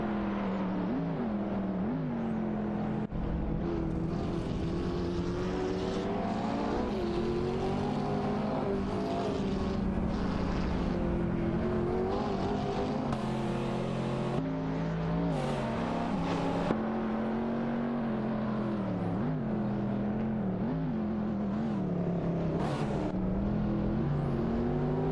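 In a racing video game, Ford Mustang Boss 302 cars and other race cars run at speed. Engines whine and rise in pitch through gear changes in a continuous, fairly close drone with brief passing swells.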